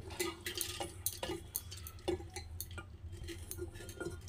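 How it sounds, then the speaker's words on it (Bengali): Dry urad dal lentils are tipped into a metal pressure cooker, with light clinks and taps of a spoon against the pot at an uneven rhythm. "তো কুকারটার মধ্যে আমি ডালগুলো দিয়ে দেবো।"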